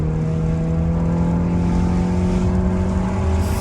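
A modified car in sports mode accelerating hard from inside the cabin, a loud, steady engine drone with strong low harmonics and road roar, no speech over it.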